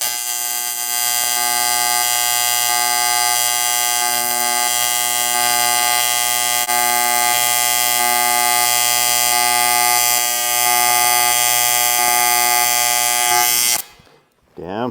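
Pulsed TIG welding arc on an Arccaptain welder set around 160 and 120 amps, a loud steady electric buzz with a rapid pulsing tone, continuous for most of the time before cutting off abruptly near the end.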